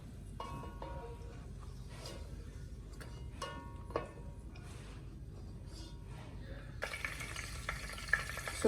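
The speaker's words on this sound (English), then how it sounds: "I'm adding in the rest we have. Because remember I said we'll be frying in 2 or 3 batches" Ingredients for a Ghanaian waakye stew fry and brown in a pan, a continuous close sizzle with scattered utensil scrapes and stirring knocks, flaring louder and brighter near the end as a new batch hits the hot oil.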